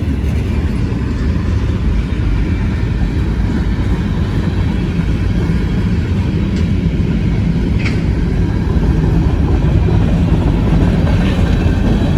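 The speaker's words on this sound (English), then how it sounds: "There you go, a southbound train" A southbound train climbing a hill rumbles steadily past at close range, a continuous loud roar with faint wheel clatter throughout.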